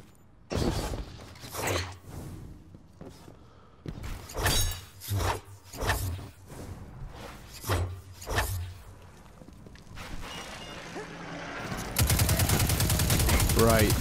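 Gunfire and grenade launcher blasts in the video game Zero Hour, a string of sharp, loud shots and bursts in irregular rhythm, followed by a harsher sustained noise at the end, with some talk mixed in.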